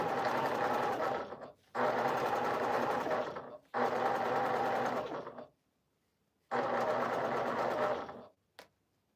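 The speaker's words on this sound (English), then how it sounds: "I think I'm determined to try to at least make the center with this machine." A sewing machine stitches pieces of a scrappy Drunkard's Path quilt in three close, steady bursts of rapid mechanical whirring separated by brief pauses, ending with a short click.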